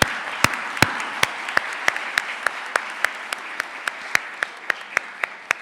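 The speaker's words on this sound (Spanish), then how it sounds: "Un aplauso, por favor." Audience applause at a book presentation in Guadalajara, a steady wash of clapping with sharp individual claps cutting through, fairly distant and even throughout.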